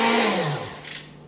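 A brief high-pitched whir from a 1970 Iona electric can opener motor that winds down in pitch and fades away.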